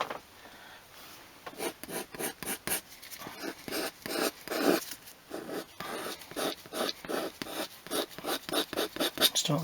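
A dyed leather seat from a seventh-generation Toyota Celica gets a light hand sanding: quick, rhythmic rubbing strokes repeat close by at a fairly even pace, with no talking.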